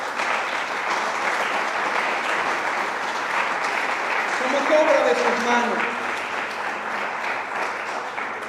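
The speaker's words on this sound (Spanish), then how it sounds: "Dale un aplauso al Señor." Church congregation applauding after a sermon, steady dense clapping throughout with a preacher's voice speaking over it midway.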